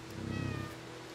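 A single drawn-out cat meow from the video game Stray, fairly close and clear against a soft ambient background.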